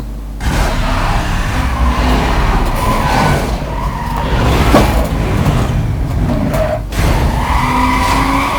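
A Mercedes CLK 500 races in the Need for Speed: Most Wanted video game, its engine roaring loud and steady with tire squeals and skids cutting through the drive.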